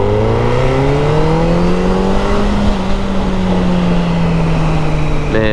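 A Suzuki B-King streetfighter motorcycle engine rises steadily in pitch as it revs, loud and close with a continuous harmonic drone throughout, and no voices.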